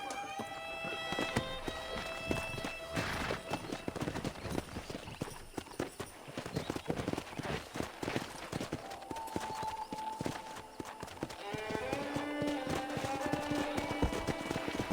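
Hooves of wild horses gallop and clip-clop in Red Dead Redemption, rapid repeated thuds close by with tonal game music and effects layered over them, no speech.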